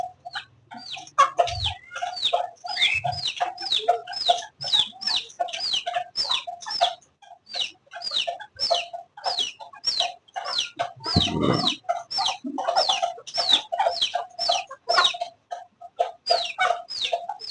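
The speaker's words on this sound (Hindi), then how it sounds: "ये रहे दो चूजे चू चू कर रहे हैं" Many chicks peep in quick, high, repeated chirps throughout, with a hen's low clucks and a brief rustle underneath.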